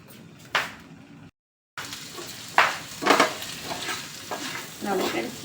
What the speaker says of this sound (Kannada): ಇವಾಗ ಇದನ್ನು ಚೆನ್ನಾಗಿ ಹಸಿ ವಾಸನೆ ಹೋಗೋವರೆಗೂ ಫ್ರೈ ಮಾಡ್ಕೊಳ್ಳೋಣ